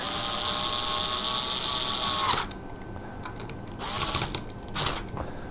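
A small power tool set to its lowest torque drives tiny screws during a Bell and Howell worm gear repair, a close whirring buzz for about two seconds, then shorter bursts of whirring after a pause.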